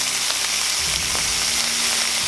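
White wine sizzles in a hot pan of asparagus with butter, garlic and shallot, a loud, steady hiss and crackle that holds throughout.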